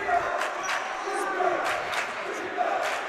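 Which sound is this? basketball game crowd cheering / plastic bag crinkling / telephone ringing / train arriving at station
basketball game crowd cheering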